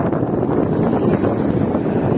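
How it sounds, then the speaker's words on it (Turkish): Strong headwind roars against the microphone while cycling in a storm in Turkey, a dense, continuous rumbling buffet with no voices. "Rüzgar devamlı karşıdan esiyor başkan ya."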